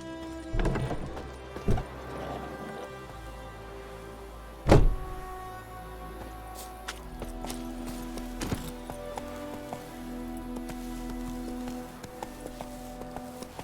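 Horse hooves from The Witcher 3 game give a few scattered, fairly close clip-clops and thuds, followed by a quieter stretch of ambient hum with faint clicks.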